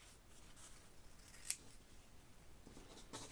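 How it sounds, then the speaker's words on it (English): Sharp scissors snip through a folded one-ply paper towel in a quiet indoor setting, with one crisp, close cut standing out amid faint handling noise. "get a nice pair of sharp scissors. Just gonna cut it in half."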